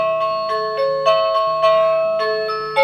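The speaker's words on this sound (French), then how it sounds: "Ah, une sonnerie de Noël." A tinkling electronic doorbell chime plays a Christmas tune, evenly paced notes ringing out clearly with no voices.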